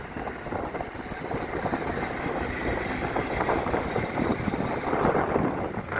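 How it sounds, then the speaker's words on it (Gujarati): A motorcycle engine runs steadily while riding on a road and over a bridge, a continuous mid-pitched drone with wind buffeting the microphone and no clear talk. "વિશાળ બાઇક ચલાવે છે આજ તો"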